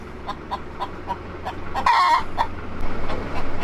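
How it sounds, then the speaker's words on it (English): Chickens in a tobacco barn give loud, close clucks and short squawks over a low steady hum. One louder call rises near the middle, and there is no talking. "This one's got chickens in it."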